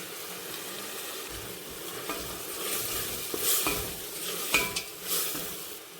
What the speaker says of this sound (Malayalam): നന്നായി ഇളക്കി കൊടുക്കാം മഞ്ഞൾപ്പൊടി